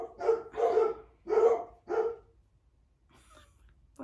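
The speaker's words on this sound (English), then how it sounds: "I don't know what's going on with my dogs." Dogs bark four times in quick succession, loud and close, each bark a short burst in an uneven rhythm, then a quieter stretch of faint room noise follows.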